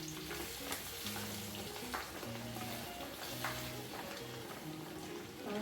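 Homemade herbal hair oil heats in a pan with a steady bubbling sizzle close by, while soft music plays underneath.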